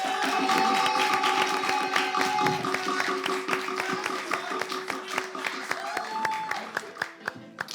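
A studio audience cheers and claps to welcome a guest onto an Ivorian daytime TV show, a loud dense burst of applause with sustained tones under it that thins into separate distinct claps toward the end.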